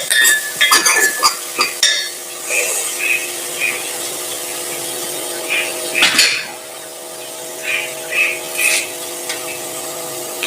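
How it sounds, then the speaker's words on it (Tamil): A spoon stirs squid soup with carrot, beans and tomato in a pot, giving irregular metallic clinks and scrapes against the rim. A few sharper knocks stand out over steady kitchen background noise. "இந்த கேரட்டு போட்டாச்சு, பீன்ஸ் போட்டாச்சு, தக்காளி போட்டாச்சு, எல்லாம் சேர்த்து நல்லா சுற்றி கிளறணும்"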